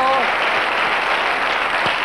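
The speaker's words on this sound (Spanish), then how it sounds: "Ahí ven ustedes a nuestros invitados aplaudiendo." Guests on a 1995 Spanish TV game show applaud in a steady, dense wash of clapping that fills the studio, with a brief voice at the very start.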